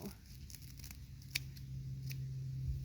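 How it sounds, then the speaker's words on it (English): Scissors trim a small lavender plant, making a few quick, faint snips and crinkly cuts against soft steady background noise. "for such a small plant, scissors work great"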